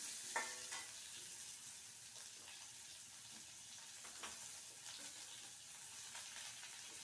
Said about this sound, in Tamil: இந்த வெங்காயம் ஒரு வெங்காயம் பெரிய வெங்காயத்தில் ஒரு வெங்காயம் இதுவும் நல்லா வதங்குற அளவுக்கு வதக்கணும்